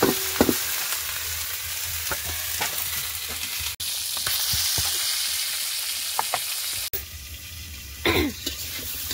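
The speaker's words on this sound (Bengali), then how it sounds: "এই যে কলার তরকারিটা আমি ভালো করে নুন হলুদ দিয়ে একটু ভেজে নিয়েছি" Banana curry frying with salt and turmeric in a wok, a steady close sizzle with occasional stirring knocks and a brief cough or throat-clearing near the end.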